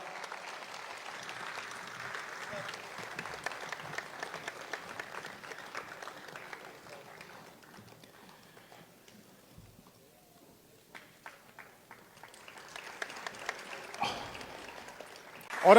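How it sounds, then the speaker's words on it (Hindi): Audience applause for poet Hasan Kamal at a Dubai mushaira, a dense patter of clapping for several seconds that thins to near quiet, then scattered claps and a renewed burst near the end. "हसन कमाल साहब के लिए तालियों की गड़गड़ाहट थोड़ी"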